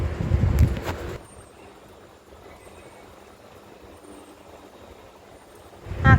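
Strong night wind gusts across a 13th-floor high-rise rooftop in Serampore: loud, rough buffeting bursts at the start and end, with a low, steady airy rush between them.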